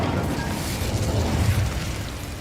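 Incendio fire spell cast in the video game Hogwarts Legacy, a loud, close, roaring whoosh of flame with a low rumbling burst that fades slightly at the end.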